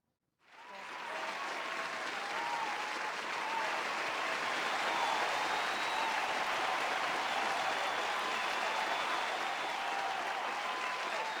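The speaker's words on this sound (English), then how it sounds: "So give yourself a round of applause." Sustained audience applause at a live show, starting abruptly and holding steady and loud for about eleven seconds with a dense crowd texture.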